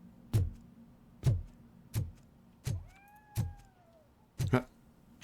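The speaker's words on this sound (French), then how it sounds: "J'entends le chat miauler" In the video game RoboCop: Rogue City, a cat meows once in a short rising-falling cry, set among a steady series of sharp, regularly spaced thuds in a quiet interior.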